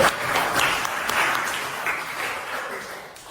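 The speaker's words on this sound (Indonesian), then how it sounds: "Kita berikan tepuk tangan dulu kawan." Classroom applause from a ninth-grade class of students, a dense burst of clapping that is loudest at the start and fades gradually over about three seconds.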